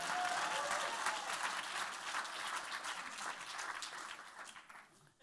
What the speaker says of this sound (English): let's have a big round of applause for Becky just in case she doesn't survive.